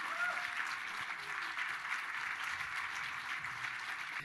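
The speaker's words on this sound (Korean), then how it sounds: "큰 박수로 다시 한번 맞아주시기 바랍니다." Sustained applause from a large audience at a Rotary district conference, a dense steady wash of clapping that holds at an even level throughout.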